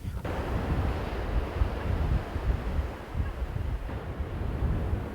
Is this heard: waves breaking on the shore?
yes